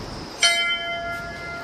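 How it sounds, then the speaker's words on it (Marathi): Temple bell at Siddhapeeth Kalimath struck once, a sharp metallic clang followed by a bright ringing tone that slowly fades, nearby and alone. "आम्ही घंटी वाजवतो।"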